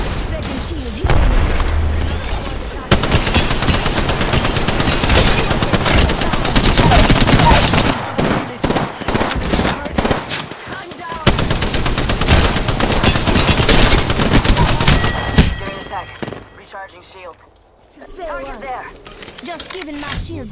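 Gunfire in the video game Apex Legends: dense, rapid bursts of shots and booms that run almost continuously, with brief lulls, and game voices calling out over the shooting.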